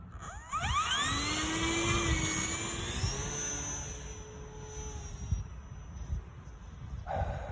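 E-flite Air Tractor RC plane making a slow pass without flaps, a whining electric motor and propeller rising as it approaches and then holding steady before fading, heard from the ground at moderate distance.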